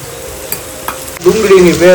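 Onion paste hits a hot pan for a savory Gujarati vegetable dish, bursting into loud close sizzling after a quiet moment, with faint scraping of stirring.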